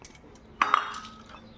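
Four bowls being greased with oil for baking cake give a few light clinks of metal and glassware, one brighter ring standing out, in an otherwise quiet kitchen.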